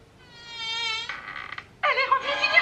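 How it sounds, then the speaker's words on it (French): A cartoon bee buzzes in a Mickey Mouse short, a thin high-pitched drone that rises and falls in pitch, breaks off, then returns louder and harsher, alone and close. "l'abeille, elle essayait de me piquer"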